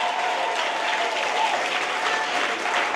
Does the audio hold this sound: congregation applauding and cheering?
yes